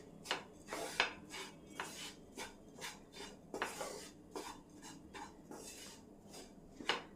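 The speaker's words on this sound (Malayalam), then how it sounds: "1 മിനിറ്റോളം ഒക്കെ നമ്മളിതുപോലെ ഒന്ന് ഇളക്കി കൊടുക്കണം." Roasting oats being stirred in a pan for oats kesari, with a steady series of light scraping and clinking strokes of a utensil against the metal, close and moderately quiet, with no talking.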